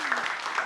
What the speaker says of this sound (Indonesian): Boleh tepuk tangan untuk bahasa Indonesia.